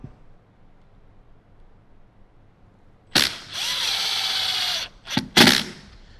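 A power drill driving screws into a speaker in a 2025 Toyota 4Runner during an Alpine speaker install, quiet at first, then one sustained whirring burst followed by two short spurts, close and loud.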